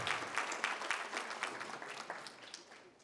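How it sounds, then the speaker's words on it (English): Audience applause at a youth empowerment gala: a fairly faint, steady patter of many hands clapping for about three seconds, sounding somewhat distant in a large room. "Everyone, let's give him a round of applause once more."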